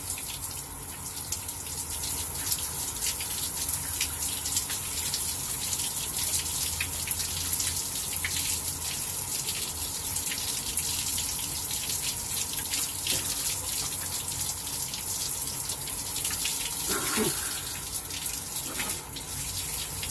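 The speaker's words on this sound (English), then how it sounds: "I'm in my brother Tony's outdoor shower now" Water runs steadily in an outdoor shower, a constant spattering hiss throughout with faint knocks and splashes near the end, fairly close, no talking.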